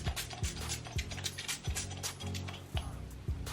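A nearly empty Wet n Wild setting spray bottle pumped repeatedly, giving a series of sharp mechanical clicks and hissy, sputtering sprays at an irregular rhythm, close up and fairly quiet.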